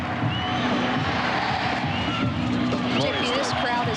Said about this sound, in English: Elanye, more USA chants in this great crowd at Stanford